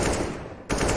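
Automatic gunfire in the video game Counter-Strike on the Nuke map, a quick burst of rapid shots that cuts out briefly and resumes, loud and close.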